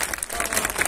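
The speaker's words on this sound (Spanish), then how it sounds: "Fuerte el aplauso para Jorge, alumno de CECITEL Tultepec." An audience at a municipal anniversary ceremony briefly applauds a student, a short burst of fairly loud, dense clapping.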